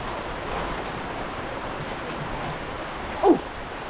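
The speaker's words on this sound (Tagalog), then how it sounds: "lakas ng ulan mga katepo" Heavy rain pours steadily in a flooded area during a downpour that has lasted about two hours, a dense, continuous wash of noise with a brief louder splash or thump near the end.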